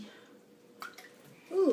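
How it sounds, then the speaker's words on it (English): Arizona green tea is poured into a glass in a short, soft splash and trickle, followed by a brief voice sound at the end in a quiet indoor room. "Got me some Arizona green tea for my drink today. Pour that."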